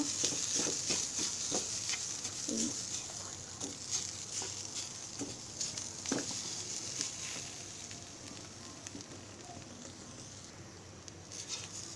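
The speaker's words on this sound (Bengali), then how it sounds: "আমি পেঁয়াজের সাথে এখন চেপাটা ভালো করে মিশিয়ে নিব" Chepa dried fish and onions are stirred in a pan with a little oil, giving a constant soft sizzle with scattered light scrapes and pattering clicks throughout.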